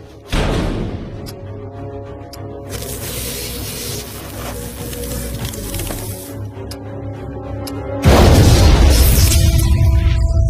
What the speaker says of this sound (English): The explosion was massive, although it did not kill him.